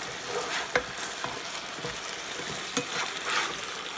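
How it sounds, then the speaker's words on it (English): Onions and asparagus in a garlic onion marinade are stirred and flipped in a hot pan, producing a continuous close sizzle with occasional soft scrapes and taps of the utensil and no voices. "Now we're really going to start mixing this stuff up, okay? And what I'm going to do is just turn them over."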